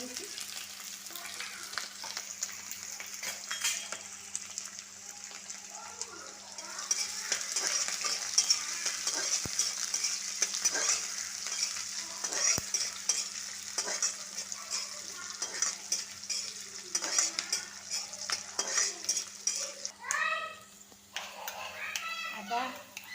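Small onions fry and get stirred in hot oil for an Assamese mutton curry, a steady close sizzle with occasional scrapes of a utensil, rising louder partway through, while a voice speaks now and then.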